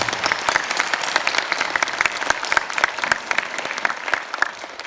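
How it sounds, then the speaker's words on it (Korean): An audience at a talk show with Bishop Du Bong applauds the event's organisers. Lively, dense clapping stays strong throughout, with individual sharp claps standing out near the front. "여러 사람이 협력을 해서 이 시간을 준비를 했는데, 준비해 주신 분들에게 우리 같이 박수를 드리겠습니다"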